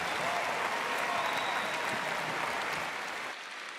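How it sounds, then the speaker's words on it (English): An audience at a speech in Rwanda applauds the Kenyan deputy president with dense, steady clapping that fades near the end. "Encore une fois, nos applaudissements"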